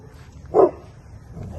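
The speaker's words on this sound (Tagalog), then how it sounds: "May aso kasi sa kabila." A dog next door gives a single short bark, moderately loud and slightly distant, against quiet room background.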